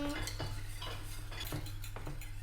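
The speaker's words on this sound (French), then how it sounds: "À feu doux dans la casserole et nous mélangeons." A spoon scrapes and clinks around inside a saucepan over low heat, stirring lemon juice and zest in a steady rhythm, close up, with a low hum underneath.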